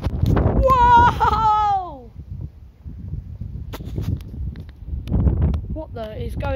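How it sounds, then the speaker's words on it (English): Strong gusty wind from a Christmas Eve storm buffets the microphone with loud, rough low rumbling that swells and eases throughout, while a person talks and exclaims over it. "I want to get a big gust of wind while I'm up here."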